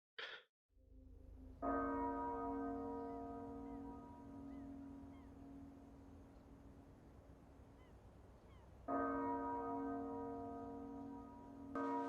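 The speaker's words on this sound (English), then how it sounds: "Who does the bell toll for?" A large bell tolls in a TV episode, two deep resonant strikes about seven seconds apart, each with a long ringing decay, heard clearly without talk.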